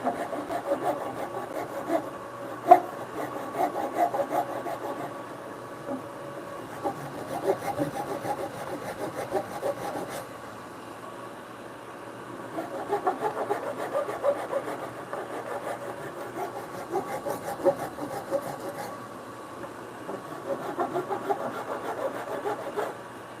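Hand sawing through knotty wood for a bunk bed in a home workshop, a steady rasping back-and-forth rhythm with uneven strokes, close and moderately loud, continuing for a long stretch.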